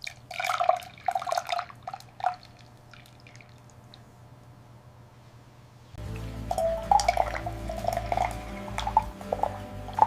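Yogurt poured over jelly in a tropical fruit yogurt bowl makes soft wet dripping and gloopy trickling sounds, close and quiet, with a brief pause before a steadier flow resumes under faint background hum.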